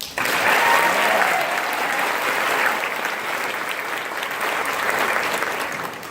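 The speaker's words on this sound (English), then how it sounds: "Please join me in another round of applause congratulating my fellow graduates." Crowd at a graduation ceremony applauding the graduates, a loud, sustained burst of clapping that starts abruptly and holds steady throughout.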